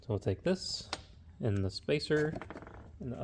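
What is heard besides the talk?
None of the usual background noises is heard.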